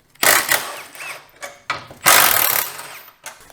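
A hand ratchet works 13 mm bolts loose on the bumper of a RAM TRX pickup, quick clicking pawl bursts in several close, loud runs separated by brief pauses.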